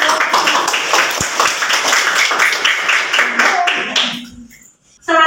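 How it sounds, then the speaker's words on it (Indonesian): A classroom breaks into lively applause, with many hands clapping in quick, dense bursts for about four seconds before dying away, then a short final flurry. "Kita beri tepuk tangan meriah."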